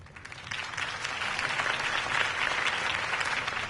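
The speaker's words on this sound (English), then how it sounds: "could have heard that applause" A crowd applauds steadily and loudly in the Batman: The Telltale Series video game, a dense wash of clapping that fills the scene without a break.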